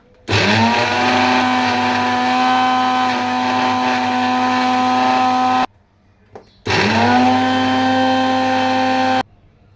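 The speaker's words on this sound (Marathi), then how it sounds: "मिक्सर लावून घेते मी." A kitchen mixer grinder whirs loudly as it grinds green chillies, ginger, garlic, curry leaves and coriander, running in two long bursts with a brief stop between them.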